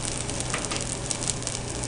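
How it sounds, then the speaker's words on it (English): Garlic and onion frying in a hot pan for Chinese fried rice, giving a steady, loud, close crackling sizzle with no talking over it. "Gonna add the garlic and onion."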